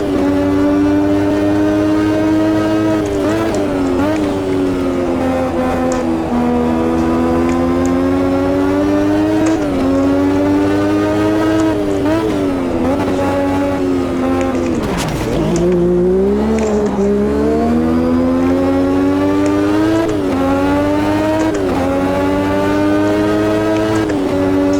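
A turbocharged 1989 V6 Formula One engine in the Automobilista 2 racing game at Jacarepaguá, howling loud and steady at high revs, with pitch rising and falling through gear changes and a deep dip near the middle.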